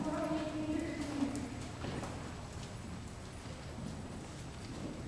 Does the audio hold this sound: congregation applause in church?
no